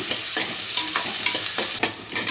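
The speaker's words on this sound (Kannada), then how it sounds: "ದಿಂಡು ಸ್ವಲ್ಪ ಫ್ರೈ ಆದಮೇಲೆ ಈರುಳ್ಳಿ ಹಾಕ್ತೀನಿ" Broccoli stalks sizzle loudly in a pan of hot oil with popped mustard seeds. Repeated scraping stirs of a spatula break up the steady frying hiss.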